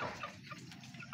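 A black hen gives a brief, faint cluck, a single soft call in a quiet farmyard setting.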